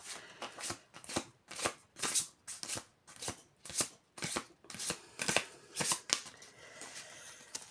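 Tarot cards shuffled and laid down in a brisk, regular rhythm of papery riffles and soft slaps, about a dozen strokes, close and clear with no talking.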